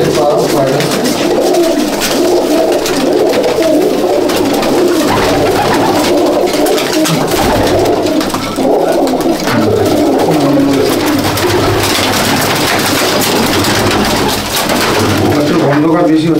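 Old breed Madrasi pigeons coo repeatedly at a pigeon sale in Bauria, Howrah, the soft throaty calls mixed into a dense, steady din of surrounding noise with some voices in the background.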